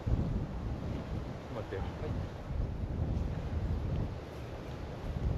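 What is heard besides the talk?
strong wind blowing over the water on a boat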